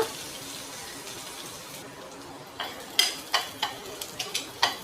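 Chopped onion dropped into a hot pan for a lentil dish, giving a soft sizzle with scattered stirring clicks and scrapes that pick up in the second half, close by with no talk.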